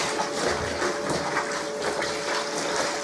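Water gushes steadily into a tub of cleaning solution used to wash polyester motorcycle textile jackets, a continuous close pouring and splashing with no talk.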